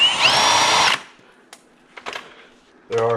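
A power drill backs out the bolts on a Ford F150 air dam. One loud whirring burst lasts about a second, then come faint clicks and handling noises, and a short second whir starts at the end.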